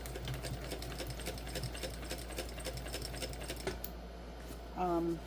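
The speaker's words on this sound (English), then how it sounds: "I'm sewing on a Singer 291U1 industrial sewing machine" A Singer 291U1 industrial sewing machine runs in rapid, even stitching bursts over a low motor hum, then stops briefly before a short voice at the end.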